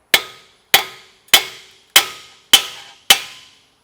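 A hammer strikes a nut on a third-generation Toyota Tacoma axle to flatten it: six sharp metallic blows land at a steady, even pace, each ringing briefly before the next.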